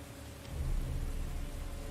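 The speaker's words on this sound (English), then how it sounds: "It's raining." Rain falls in the video game Total War Saga: Thrones of Britannia as a soft, steady wash with a low rumble swelling partway through, faint and even, with no talking.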